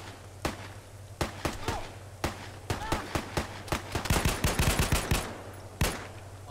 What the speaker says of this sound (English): My weapon jammed in the middle of a firefight